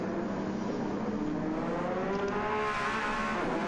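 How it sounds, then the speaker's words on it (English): Engine of a new Porsche race car in a racing video game during a 16-hour endurance race at Yas Marina, a steady, loud, close roar whose pitch climbs gradually, with no talking. "Love the sound of that new Porsche."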